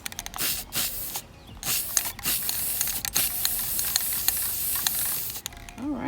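Short bursts of black satin Rust-Oleum paint-and-primer spray hiss from an aerosol can onto a light fixture outdoors, several broadband spurts in a row, close and fairly loud, then a brief voice at the end.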